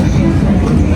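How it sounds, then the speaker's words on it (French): Metro train ride in Germany: a steady low rumble of a subway car in motion, loud and close, running continuously through a brief stretch with no clear talk. "Petit métro, tranquille."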